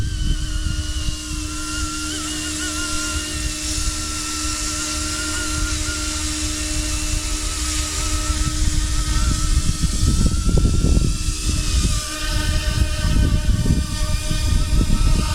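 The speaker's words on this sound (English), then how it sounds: "I'm going to set it down. It's going to land in front of us." Yu Xiang F11-N Apache RC helicopter setting down in front of the camera outdoors, a steady high whine of its electric motor and rotors that grows louder and rougher toward touchdown.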